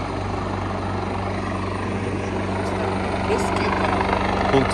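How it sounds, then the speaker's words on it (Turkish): Helicopter hovering near a snowy Japanese mountain trail, its continuous low rotor thrum and engine hum holding steady and fairly close, with faint voices over it. "Ne yapıyor bu helikopter böyle ya?"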